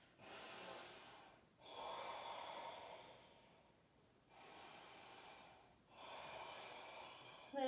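Slow, deep breathing in a yoga vinyasa class, four long airy inhales and exhales in a steady rhythm, close and soft with short quiet gaps between.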